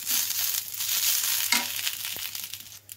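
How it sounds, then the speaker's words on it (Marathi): Masala spices roast in a pan over a medium gas flame for a cluster-bean dish, giving a steady close sizzling crackle with soft scraping stirs throughout, no voices. "शक्यतो मिडियमच गॅसवरती भाजून घ्यायचं"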